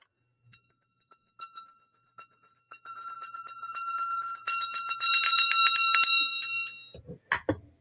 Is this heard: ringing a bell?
yes